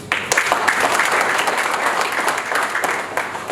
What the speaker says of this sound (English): I expect a round of applause.